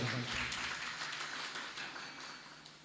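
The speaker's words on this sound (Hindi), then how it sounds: "जो कभी कभार आता है उसके लिए तालियां अलग से बजाना पड़ता है" An audience claps together for an occasional visitor at a Jain religious discourse in Jaipur, a dense, steady patter of many hands heard moderately loud, slowly tapering off over a few seconds.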